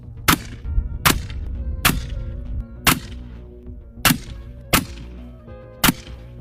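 Sharp rifle shots from a .300 Blackout at a shooting range, seven loud reports spaced roughly a second apart, each cracking out over a steady background rumble.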